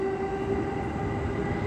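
Onboard running sound from KuHa E217-23, an E217 series commuter car on a special rapid service bound for Soga: steady low rumble with a sustained motor whine, continuous and close, no talk.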